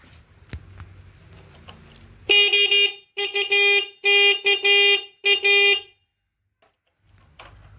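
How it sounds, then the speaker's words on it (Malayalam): A bright, brassy motorcycle horn beeps in a string of short bursts, several quick toots in a row, close and loud against a quiet background. "നമ്മൾ ഹോൺ അടിച്ച് നോക്കുവാണ് വർക്ക് ചെയ്യുന്നുണ്ടോ ഇല്ലയോ"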